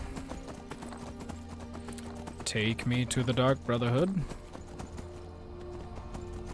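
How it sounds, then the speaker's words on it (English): Rhythmic clip-clopping horse hooves in Skyrim beat steadily and close, while someone speaks over them partway through. "Or we'll ride our horse."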